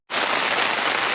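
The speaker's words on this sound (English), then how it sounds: "it just started to rain and thunder" Rain sets in abruptly over a Zone 6B home garden, a dense, steady wash of drops pattering on surfaces at close range, with no thunder and no voices.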